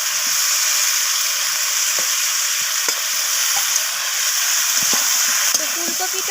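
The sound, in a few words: fried cauliflower added to sizzling pan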